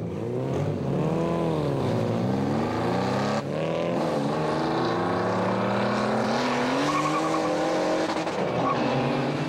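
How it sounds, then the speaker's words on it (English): Drift cars, a Falken G35 among them, race at a Formula Drift event in Houston in 2005, engines roaring loud and continuous with rising and falling revs and tire squeal, close to the track. "Taking on the Millennium Falken G35 flown by NorCal's drift technician Calvin Wan."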